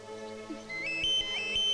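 Phone ringtone in a Bhojpuri family drama, a steady electronic tone that chimes several times, moderately loud over a faint background hum.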